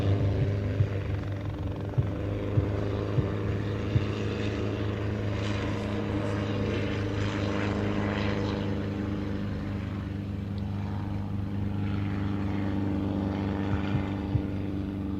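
A propeller aircraft trailing smoke in a spiralling climb at an air show display at RAF Mildenhall drones steadily and loudly throughout, a continuous engine hum with no speech.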